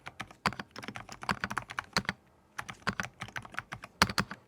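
Typing on a Keychron V6 Max mechanical keyboard, close-up rapid clacky keystrokes in irregular bursts with a brief pause midway, no talking.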